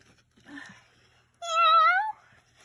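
A cat gives one clear, drawn-out meow after a softer, brief murmur, loud and close against near silence.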